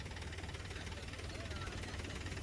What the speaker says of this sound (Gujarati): આ સાઈડ જો આપણે ઘરડા વાળું ટ્રેક્ટર છે અને સામે ઘરડા વાળું ટ્રેક્ટર છે